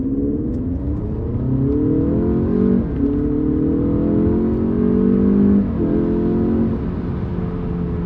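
Alfa Romeo Giulia Veloce Ti engine revving through rising gear pulls, a quiet, muted exhaust tone climbing steadily in pitch with brief dips at each shift, heard continuously from inside the car.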